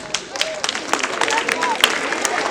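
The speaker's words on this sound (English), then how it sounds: "So give yourself a clap." Pupils and staff at a school mid-term break assembly clap, a brisk round of applause with crowd murmur and voices mixed through it.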